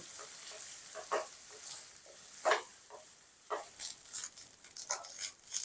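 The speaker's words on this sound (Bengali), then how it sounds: "আমি এগুলোকে ভালো করে ভেজে নিচ্ছি" Small shrimp, ground into a paste with salt and turmeric, frying in a pan: a steady, close sizzle broken by louder crackling bursts and occasional stirring scrapes, with no talk.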